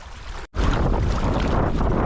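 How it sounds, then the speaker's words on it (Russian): Strong wind roars continuously into the microphone while fishing on open water, buffeting loudly after a brief silent gap near the start. "что ветер стих. А он снова как дунул"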